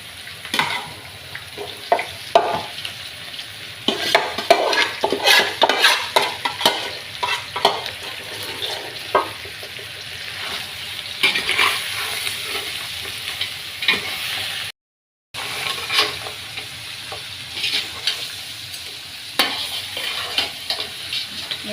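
Masala-coated crabs frying with onions in a pan, a steady loud sizzle with frequent stirring scrapes and clatter throughout, close up, briefly cutting out near the middle.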